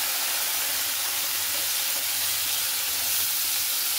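Shredded cabbage, carrot, beet and cauliflower hit hot butter in a pan, giving a steady, loud, broadband sizzle that hisses on evenly throughout with no talking.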